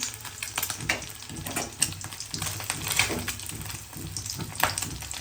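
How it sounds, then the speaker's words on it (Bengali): Oil spattering and crackling while eggs fry in a pan at home, a steady sizzle with irregular pops, close and moderately loud, with no one talking. "তেল আসতেছে ছিটে ছিটে।"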